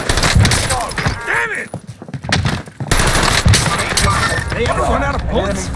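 Rapid machine gun bursts rattle in a video game shooter, loud and dense, with gunfire overlapping throughout and players talking over the shooting.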